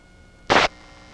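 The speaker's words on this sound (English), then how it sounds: "there's a burst of static." A single brief burst of harsh telephone line static on disconnect at a 1977 GEdney 9 panel exchange in Brooklyn, about a fifth of a second, rising out of a low, quiet line hiss.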